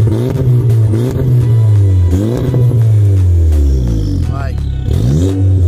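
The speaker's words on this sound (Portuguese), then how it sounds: "vou estar mostrando aqui agora o escapamento do Jetta" A turbocharged Volkswagen Jetta TSI 2.0 exhaust revs up repeatedly up close, the engine climbing and falling in loud, rising sweeps before settling back to a deep idle between blips.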